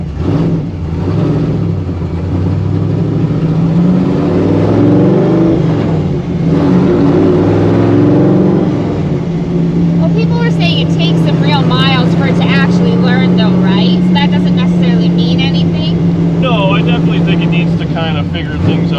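A 1955 Chevy Nomad gasser engine idling and rumbling unevenly, loud and close, with a lumpy, unsettled note as it comes off throttle; a voice talks over it throughout.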